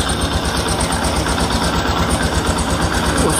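Motorcycle engine idling at about 1000 RPM during a carburettor adjustment, giving a steady, close, continuous low rumble with a fast even pulse and no talking.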